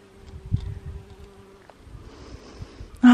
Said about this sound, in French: Toujours autant d'abeilles.